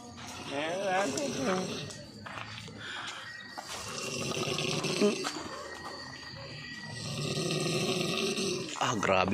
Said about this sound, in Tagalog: Grabing hilik.